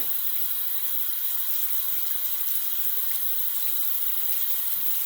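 Steady running cold tap water splashes continuously over a shaving brush, a constant hiss with no talking.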